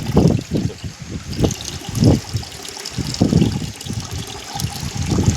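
Jaggery water, about a kilo of it, pours in a steady trickling stream into a calcium mixture, splashing and gurgling up close throughout.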